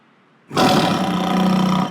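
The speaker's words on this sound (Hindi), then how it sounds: "तुमने भी शेर की आवाज सुनी?" A single loud, rumbling big-cat roar bursts in suddenly after near silence and holds for over a second: a lion roar used as a car horn.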